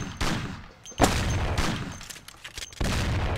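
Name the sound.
gunshots in video game Mafia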